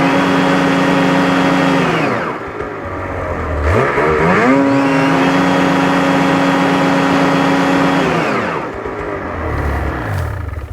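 A stock Ski-Doo 850 turbo snowmobile engine with its factory muffler is run to full throttle twice, each pull climbing into a loud, sustained roar with rising pitch before dropping back to idle.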